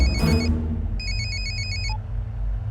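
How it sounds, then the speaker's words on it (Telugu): A cell phone ringtone sounds after a number is dialled, a bright repeating electronic trill in short bursts over a low background rumble. "వీడి సెల్ ఫోన్లో సూర్య నెంబర్ ఉంటుంది, కలిపి."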